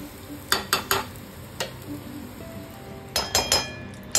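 Spoon clinks and scrapes in a pot as fried lentil fritters are stirred into curry, with a few sharp taps in two quick clusters over a faint sizzle.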